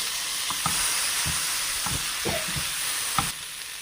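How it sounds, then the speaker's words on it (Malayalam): Chillies frying in hot oil in a pan for a Kerala-style pearl spot fish dish, with a medium-large tomato added: a steady close sizzle with soft stirring and spoon clinks recurring throughout. "മുളകൊക്കെ ഒന്ന് ചൂടായിട്ടുണ്ട് ഇനി നമുക്ക് ഇതിനകത്തേക്ക് ഒരു തക്കാളി സാമാന്യം വലിയ ഒരു മീഡിയം സൈസ് തക്കാളി ഇട്ട് കൊടുക്കും"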